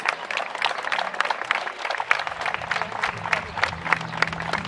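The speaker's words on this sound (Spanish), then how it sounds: "Fuerte el aplauso para la agrupación Gaucha Amigos Rienderos." Crowd applause for a gaucho riding group at an anniversary parade in Bajo Hondo, a dense, steady outdoor clatter of many hands lasting throughout, with a low background murmur.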